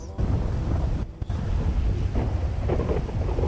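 Heavy video-game rain pours steadily with low thunder rumbling throughout, broad and loud, with a brief dip in the downpour partway through and no speech.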